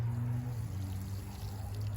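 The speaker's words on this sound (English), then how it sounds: "And lastly, just one final pour of water." Water poured from a container onto a pot freshly planted with corn seed, a steady close pour with low gurgling and splashing that runs unbroken for about two seconds, with no talk over it.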